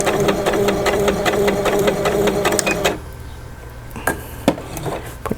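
A sewing machine stitches an eyeglass case at a 2.5 stitch length, guided along a quarter-inch presser foot. It runs fast and steady, then stops abruptly, leaving a few light clicks and handling taps.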